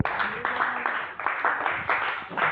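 A church congregation claps for Jesus in applause during a sermon, a dense broadband wash of many hands sustained for a few seconds, steady and fairly loud with a faint murmur of voices underneath.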